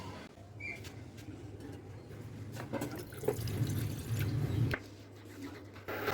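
Water is poured from a tap or vessel to make rice flour dough for modak, a soft steady running splash in a kitchen, low in level with no speech.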